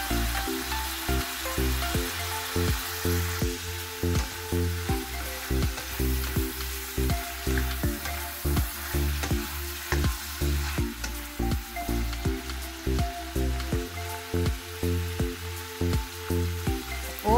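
Kangkong (water spinach) stems sizzle and crackle steadily in a hot pan for adobo with tofu, with a continuous frying hiss and bursts of stirring scrapes repeating throughout, close and fairly loud with no talking.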